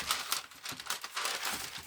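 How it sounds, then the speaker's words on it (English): Rattly rice paper is handled while being wrapped around a candle, giving close, quiet crinkling and crackling in quick irregular bursts. "I bet the noise of this is terrible on the other end of this rattly paper."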